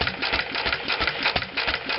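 A McCormick-Deering stationary engine runs close by with a rapid, even mechanical chatter, its fuel pump clicking steadily as it pumps fuel to the mixer.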